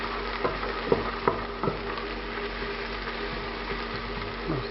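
Green chili, garlic and ginger fry in a pan for a chana masala, making a close, steady sizzle. A few sharp taps and scrapes from stirring sound over it, and no one speaks.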